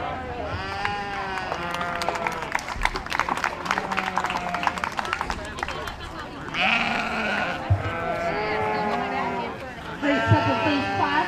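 Sheep bleat repeatedly at a county fair breeding and market lamb show, long wavering calls rising and falling near and far, with an announcer's voice and crowd noise running underneath.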